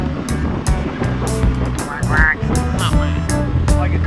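A voice imitates a duck with a few nasal quacking calls, close and loud, among speech aboard a WW2 wooden sailboat, with splashing water and knocking sounds from bottom-cleaning work around it.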